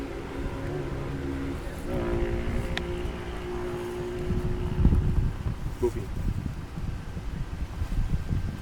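A motorcycle passes by outdoors during a viticulture soil-analysis lesson, its low rumble swelling toward the middle and lingering as it moves on, with wind noise on the microphone and a faint voice underneath.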